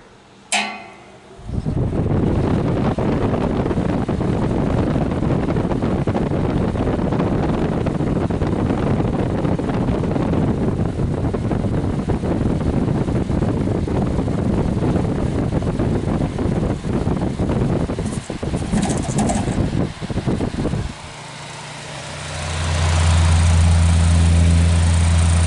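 A vintage Hassock fan, freshly reassembled with its wires zip-tied, runs with a steady, loud broadband whoosh and hum for about twenty seconds before the tone drops and shifts into a lower, droning rumble.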